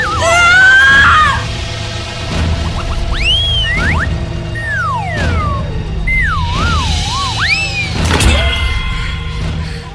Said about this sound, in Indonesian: Kemudian disusul jeritan melengking